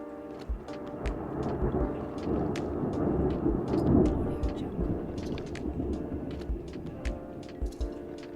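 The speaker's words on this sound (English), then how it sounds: "Is that lightning?" A deep, rolling rumble of thunder in Southeast Alaska swells and fades over several seconds, with scattered sharp clicks and taps on top.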